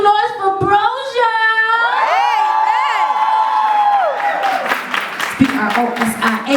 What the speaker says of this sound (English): Let's make some noise for Brosia.